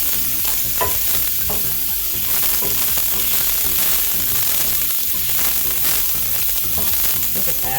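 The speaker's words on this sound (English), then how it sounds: "We know it's hot enough because we hear that sound. You want to hear that sizzle." Onions frying with turmeric in a hot pan give a steady, dense sizzle with crackles, close and continuous throughout, with some stirring and no voices.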